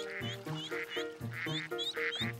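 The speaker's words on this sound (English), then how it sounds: "Ducks! It looks like they're having a family picnic, too." Ducks quack in a steady series of nasal calls, close and fairly loud, with about five bursts spread evenly through a short stretch and no voices over them.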